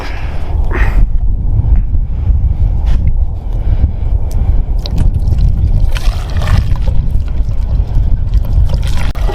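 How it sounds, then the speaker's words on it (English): Strong desert wind roars and buffets the microphone without a break, loud and close, with gusts swelling and easing across the whole stretch. "Wind's blowing my way."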